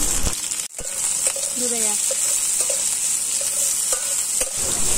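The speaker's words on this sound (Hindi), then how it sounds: "प्याज गुलो दिए दिलाम तेले।" Onions with bay leaf and whole spices fry in hot oil, making a steady sizzle marked by a few sharp clinks and scrapes of stirring.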